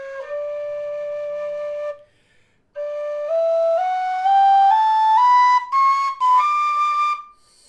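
A low D tin whistle plays a few held notes, pauses, then climbs a stepwise ascending scale, clear and close with brief gaps.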